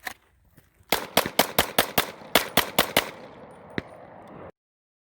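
Rapid volley of about ten loud, close gunshots fired at an armor jacket during a torture test, evenly spaced over roughly two seconds, then a final single shot after a short pause.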